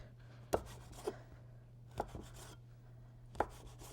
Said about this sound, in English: And now I'm going to cut this in half